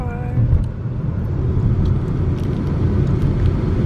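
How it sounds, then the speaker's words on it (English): Steady interior road rumble and whir of a car being driven, continuous low drone heard from inside the cabin, with faint bits of other noise over it. "We're in the car."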